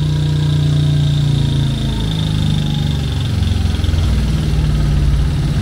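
A Honda Biz 110i motorcycle engine pulls in fourth gear with a loud, steady, close drone and a low buzzing hum that holds without a break, and no voices are heard.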